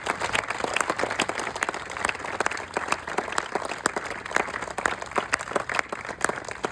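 Audience applause with dense, steady clapping from many hands throughout, fairly close and even in loudness, with no speech over it.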